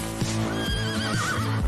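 A horse whinnies loudly and close by, a long quavering neigh with a wavering pitch and several repeated low pulses, heard alone with no talk over it.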